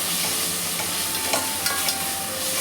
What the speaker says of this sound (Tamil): இஞ்சி பூண்டு பேஸ்ட் போட்டு நல்லா வதக்கிடணுங்க.